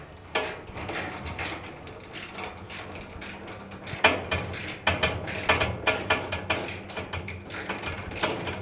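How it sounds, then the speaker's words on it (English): Mechanical clicking and ratcheting as a 5/16 hex-head screw is driven in to secure the blower cover on a Maytag dryer base, a steady run of short metallic clicks, close and moderately loud, with no talking. "we'll reinstall the 5/16 head screw that holds the blower cover"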